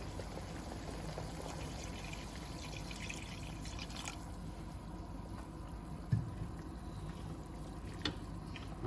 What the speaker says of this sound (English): Then we put a little water also.